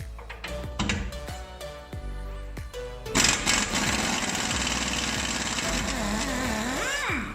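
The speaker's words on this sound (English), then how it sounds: "I'm using an impact gun, it's very easy and fast" An impact gun removes a rear suspension spring bolt on a Skoda or VW: loud, rapid rattling hammer bursts, first in short stuttering pulses and then a long continuous whirring run, close up.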